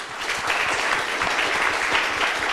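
Loud, sustained applause from a studio audience at a youth event at the Koumassi town hall in Abidjan, dense even clapping throughout without speech.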